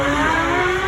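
V10 sports car, a 5.2-litre engine, accelerating hard through the gears on a drive-by, with a loud sustained engine roar and rising tone, close and continuous.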